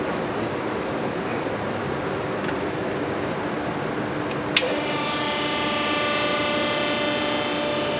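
A ship's diesel engine fires up after a repair in an engine room, a steady loud mechanical roar that jumps to a denser, harsher running drone partway through, with no talk.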